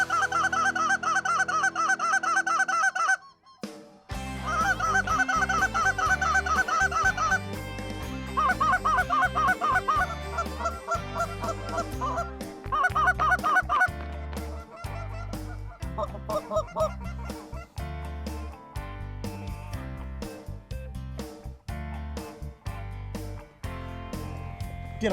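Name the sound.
snow geese honking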